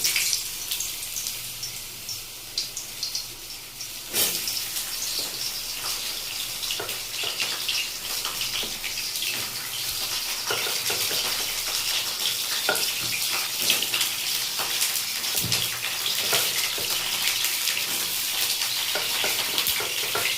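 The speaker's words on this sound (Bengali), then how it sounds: "পটলগুলো লাল লাল করে প্রথমে ভেজে নেব" Pointed gourd (potol) pieces frying in hot oil for a spiced Bengali potol kosha, a dense hissing sizzle that jumps louder as the pieces drop in, then stays steady with occasional stirring clicks.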